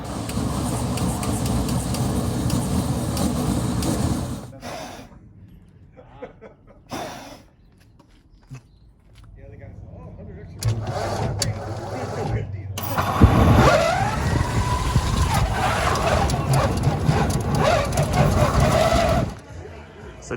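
Big burst from a gas fire-effect rig at a BattleBots builder's house: a loud, sustained roaring whoosh that swells abruptly and holds for several seconds, following quieter stretches with scattered voices and crowd chatter.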